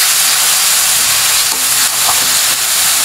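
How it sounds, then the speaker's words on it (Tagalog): Canned sisig and onions sizzle loudly in a hot pan, with a constant close frying hiss and faint scraping from stirring. "Tsaka lang ulit natin ito gigisa-gisahin."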